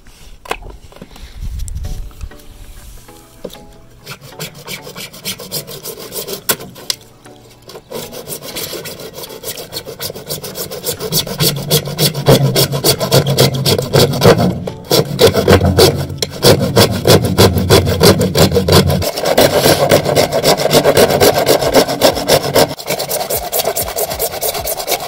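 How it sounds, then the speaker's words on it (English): Handsaw cutting through old, cracked, brittle septic pipe outdoors, a steady rasping back-and-forth scrape that starts hesitantly with short pauses, then settles into continuous, louder close strokes. "now we're going to have to cut it up a little further with the handsaw."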